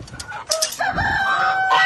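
A rooster crows loudly and close on a Sri Lankan farm, preceded by a few short clucks from colorful chickens.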